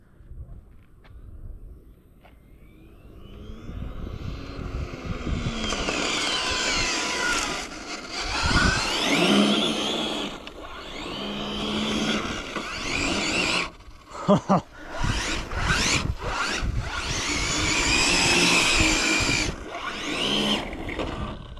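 A small Infraction 8S RC car's motor whines at full throttle as its tires spin and scrub, loud and continuous with brief dips and surges.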